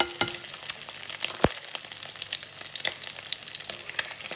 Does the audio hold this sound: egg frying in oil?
yes